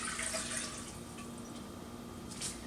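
Elderberry juice, reduced from simmering dried berries, poured back into a cooking pot: a steady, moderately loud stream of trickling liquid with light splashes, continuous for a few seconds with no talking.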